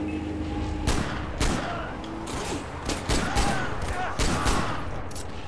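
Rapid bursts of gunfire in the video game Far Cry 4, with sharp, loud shots repeating in irregular clusters amid continuous battle noise and no talking.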